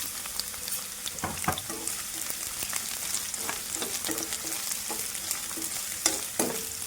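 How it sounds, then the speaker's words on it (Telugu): Chopped garlic, green chillies and onion fry in a pan with a steady close sizzle. A spoon stirs and scrapes the pan in repeated light strokes all the way through. "మంచిగా కొంచెం ఫ్రై అవుతే సరిపోతుందండి."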